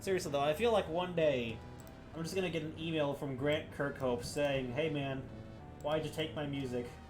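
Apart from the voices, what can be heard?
No distinct noise like a dog, phone or traffic.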